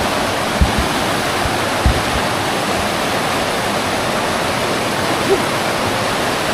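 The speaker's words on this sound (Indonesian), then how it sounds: "dekat dengan aliran sungai, aliran air" Steady broadband rush of a river stream flowing through a forest at night, continuous and fairly loud, with a few faint knocks and rustles over it and no talk.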